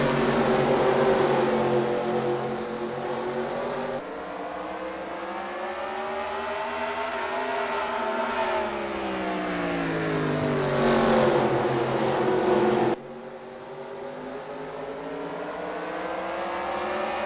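Race cars roar in a steady, loud pack at Oswego Speedway as the Sportsmen field goes green, engines rising and falling together as they pass, with no talk over the engine noise.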